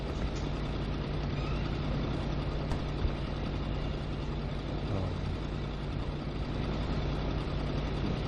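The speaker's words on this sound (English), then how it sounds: "That truck is really loud." A truck engine idles steadily in the video game GTA V, a loud, constant low rumble with a droning hum that runs unbroken throughout, heard alone with no talking.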